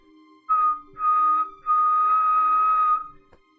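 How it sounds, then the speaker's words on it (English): A whistle blasts three times, two short toots then one long sustained shrill tone, clear and fairly distant against a quiet background. "You hear the sound of a whistle blasting."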